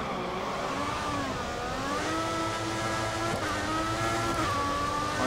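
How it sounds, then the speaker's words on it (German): Formula 1 car in F1 2014 at the Italian circuit, engine revving hard and climbing in pitch through the gears toward the rev limiter, a loud continuous whine with no voices over it. "Und hier wieder schön hochbeschleunigen."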